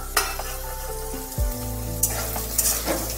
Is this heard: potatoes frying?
yes